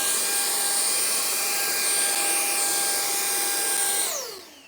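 Ryobi cordless handheld leaf blower running steadily at high speed, a loud close whine with a strong airy rush and slight pitch waver, then spinning down over the final half second.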